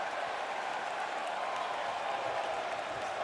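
A basketball crowd at a Georgia game cheers and claps after the team's first points, a steady roar of applause and voices from a large arena that holds level throughout.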